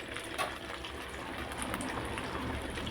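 Sundakkai, turkey berries, boiling in a pot of water, a steady close bubbling and gurgling with no voices.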